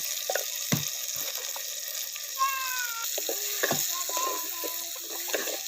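Tomatoes sauté in a pan with salt, asafoetida and turmeric, a light sizzle broken by clinks and scrapes of stirring, with a faint whistling tone near the middle.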